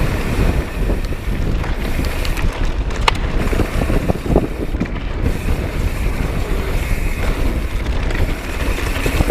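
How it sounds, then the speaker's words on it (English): Strong wind buffeting the microphone on a windy day while mountain biking a Southern California ridgeline trail, a loud, constant roaring rush with gusty surges throughout. "it's windy today, so you're gonna feel that wind"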